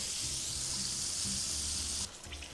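Shrimp coated in cornstarch frying in a pan of oil: a steady, close hiss of sizzling that runs evenly for about two seconds, then drops in level and turns more uneven.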